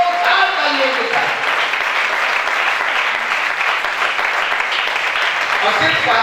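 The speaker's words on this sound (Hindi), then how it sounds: "एक बार संपूर्ण परिवार की संपूर्ण भक्तों की जोरदार तालियों के साथ" Devotees at a Jain religious gathering break into loud, sustained applause, a dense wash of clapping that fills the whole stretch at steady volume.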